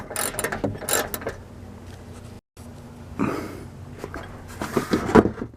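15mm screws are worked loose by hand tool from the interior of a 2008 Chevy Silverado 5.3 LT, giving a series of close ratcheting and rattling bursts with brief pauses between them.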